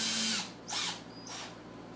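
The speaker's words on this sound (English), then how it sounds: "just hold it in place and just screw it down until it's tight" A power drill drives screws into a plant support mounted on top of a pot, giving three short close whirring bursts that each grow louder, then fade.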